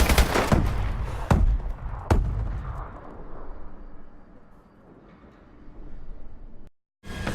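Ameli Chicanery LMG bursts from the Call of Duty shooter, several loud close shots rattling out at the start, then a fading rumbling tail and quieter ambience before a short cut to silence.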